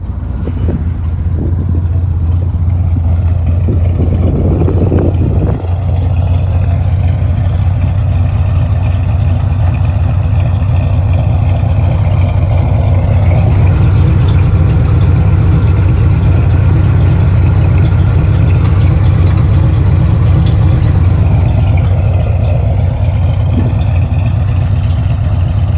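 A 1969 Chevrolet Chevelle engine idling with the hood open, a loud, steady, close rumble that holds evenly throughout, with no speech over it.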